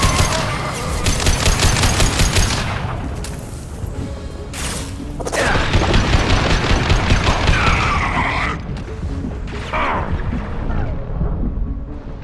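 Gunfire in Mass Effect 2 Legendary Edition while defending a tower under heavy fire: rapid bursts of automatic shots and crashing impacts, loud and close, with brief pauses between volleys.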